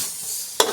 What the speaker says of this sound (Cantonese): 之後擠蒜米、香茅落去爆香佢。